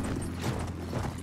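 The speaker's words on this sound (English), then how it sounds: "Got my horse." A horse's hooves clop in the video game Battlefield 1, a busy, close patter of hoofbeats over a dense rumble of in-game background noise.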